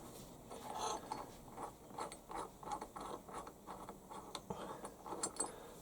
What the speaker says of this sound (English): loosen off the little bolt that holds the float bowl on